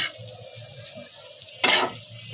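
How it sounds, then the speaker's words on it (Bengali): Cabbage fry with potato and egg is stirred in a pan, a soft low bubbling sizzle broken by a loud scraping spatula stroke near the end. "তো এখন নাড়াচাড়া করে নেব।"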